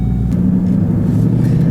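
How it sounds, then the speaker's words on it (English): A 2013 Ford Mustang Boss 302 V8 idling just after starting, a deep, loud, steady rumble close by with no voices. "It roars to life with that wonderful sounding V8."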